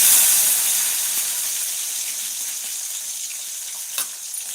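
Mustard seeds and dried red chillies frying in hot oil for a Tamil elephant foot yam fry, a steady bright hiss that starts loud and eases slightly, with one sharp crackle near the end and no talking.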